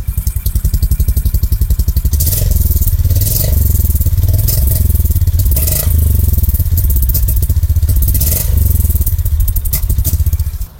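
A 2024 Honda CB 350 motorcycle runs loud and close, its thumping single-cylinder exhaust note idling steadily, then rising through several short, gentle revs before settling back.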